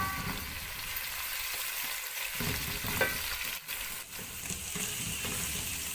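Ginger garlic paste frying in a pan, a steady close sizzle with occasional stirring scrapes and no talk.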